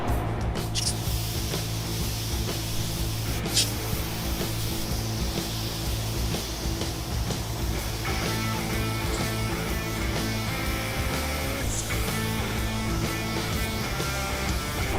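A spray gun applies epoxy primer, a steady close hiss running throughout with faint rubbing and shop hum beneath.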